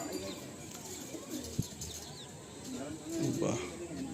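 Selected Madrasi pigeons in a loft coo in soft, low bursts, with a sharp knock midway and a louder burst of cooing near the end, faint voices murmuring in the background.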